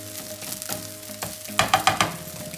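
Vegetable and prawn fried rice sizzles in a pan on a stove, a steady crackle that erupts into several loud, rhythmic bursts of stirring and tossing near the end.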